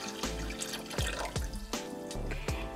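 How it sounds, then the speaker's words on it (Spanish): Water and vinegar poured into a cooking pot for pickled eggplant, with a steady liquid rush broken by several sharp splashing drips and clinks at irregular intervals. "a continuación ponemos 1 litro de agua y 1 litro de vinagre"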